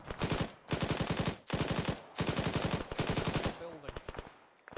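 Repeated bursts of rapid automatic machine gun fire in a military shooter video game, loud and close, four long strings of shots followed by scattered single rounds.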